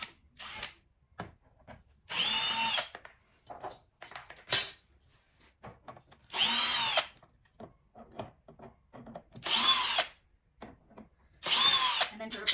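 A power drill backing screws out of brackets on an old particle board dresser drawer, firing in four bursts of whirring at close range, separated by quieter clunks and handling noises.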